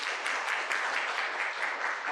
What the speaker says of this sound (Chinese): 我们拍手欢迎他们啊！